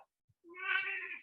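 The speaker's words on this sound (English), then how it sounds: "cat in the background doing her bit of meowing" A house cat meows once in a long, drawn-out call in the background, fairly faint and alone, with no talking over it.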